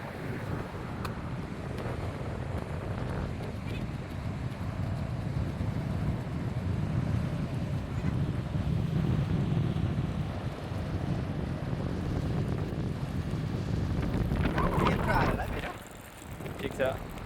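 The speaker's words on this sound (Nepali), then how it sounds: "यो समुद्र कराएकोले है" Sea waves roar in a steady, broad wash along the South Korean coast, heavily buffeted by wind across the microphone, before dropping away near the end.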